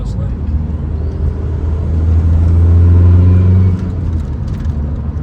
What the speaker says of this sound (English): Don't know if you heard that there, but that was the boost leak that I've been chasing